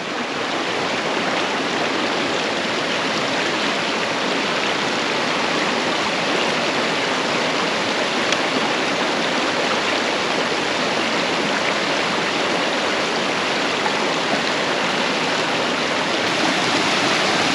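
Mountain creek rushing steadily at a hiking water crossing in Fishlake National Forest, a loud, close, continuous broadband flow with no talking.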